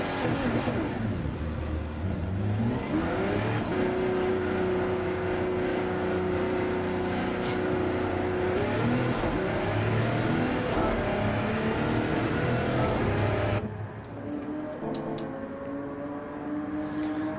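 Simulated LMP1 prototype race cars such as the Audi R18 lapping a track in a racing game, with a continuous loud engine drone and rising pitch as a car accelerates, then a steadier tone near the end.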